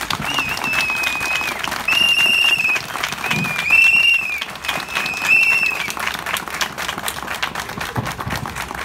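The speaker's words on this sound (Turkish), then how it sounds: "Alkışlarla, ıstıklarla eylemimizi sonlandırıyoruz" Crowd applause and sharp, repeated whistles close a street protest by public workers outside Avcılar municipality; a clatter of clapping runs throughout while several long, bright whistle blasts rise over it, fairly loud and close.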